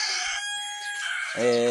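A chicken calls nearby in a brief, rising squawk that ends in a short crowing note.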